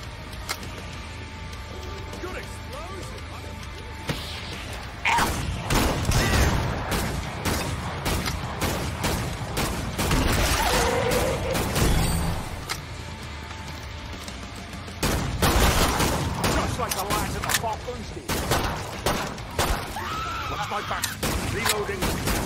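Gunfire in the video game Killing Floor 2, loud repeated rapid bursts and single shots cracking in dense clusters over a noisy game background, with voices talking in between.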